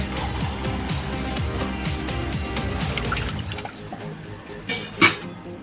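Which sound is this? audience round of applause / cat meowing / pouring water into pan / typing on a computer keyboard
pouring water into pan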